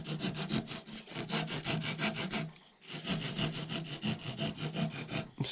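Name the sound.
filing down a wooden peg for a powder horn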